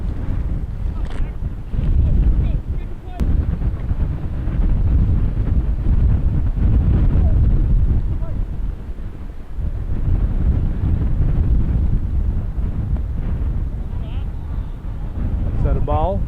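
Strong wind buffets the microphone at an outdoor baseball field, a loud continuous low rumble with gusts rising and easing throughout, close and overpowering.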